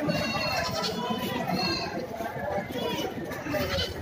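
Several goats of various breeds bleat over and under steady chatter from people nearby, with overlapping calls from the herd throughout.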